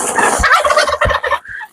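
Turkeys on a small free-range organic poultry farm gobble loudly and close by, a rapid rattling burst of calls filling the whole moment, with no talk over it.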